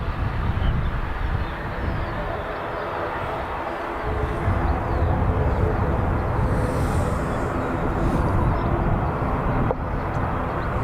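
A Delta Airbus A330neo jet taxis at Dublin Airport after pushback, heard as a continuous broad engine rumble from a distance with wind buffeting throughout, steady the whole way with a slight swell midway.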